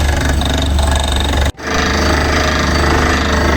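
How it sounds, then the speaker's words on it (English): A borewell drilling rig bores into loose, waterlogged soil at a construction site, making a loud, continuous pounding mechanical roar that drops out briefly partway through and then resumes at full strength. "as we are drilling for the borewell"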